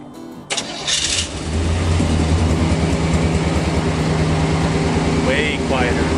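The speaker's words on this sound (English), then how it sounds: "Alright, let's see how the truck sounds." A Chevrolet K2500 pickup with a newly installed exhaust and muffler cranks and fires up, then settles into a steady, fairly loud idle close by.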